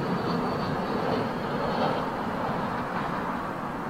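A Finnair airliner passes at London Heathrow Airport, a steady, broad jet-engine roar that holds fairly loud throughout without breaks.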